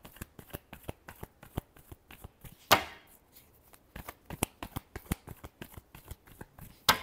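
Tarot cards being shuffled by hand, rapid close riffling snaps and flicks in quick bursts with a sharper slap near the start and end, no speech.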